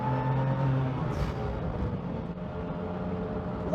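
A 580hp BMW M2 accelerating hard on a race track, heard from inside the cabin as a steady, fairly quiet engine drone with rising harmonic tones, no talk over it.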